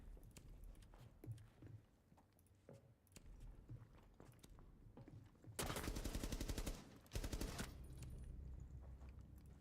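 Video game gunfire rattles in two dense, loud bursts of rapid automatic shots, preceded by scattered clicks and thuds at lower volume, with no talk during the firing.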